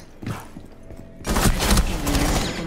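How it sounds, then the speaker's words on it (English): Pistol shotgun fired in the video game Rainbow Six Siege: a faint shot early, then a loud, sustained burst of close gunfire and impacts filling the second half. "I use a pistol shotgun."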